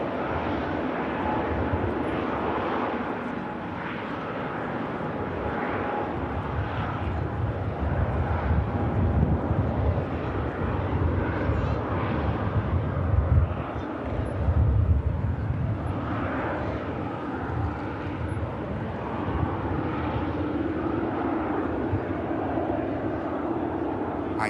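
An Airbus A330 airliner lands at an airport, a sustained rumbling engine roar that swells slightly midway, with wind buffeting the microphone and no talk.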